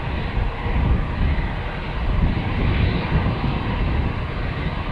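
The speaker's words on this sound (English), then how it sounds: "Taking off in front of us instead of taxiing back to the threshold before taking off." Airplane taking off from runway 36L at Amsterdam Schiphol Airport, a loud continuous roaring rumble of jet engines that stays broad and steady throughout, heard fairly close with wind buffeting.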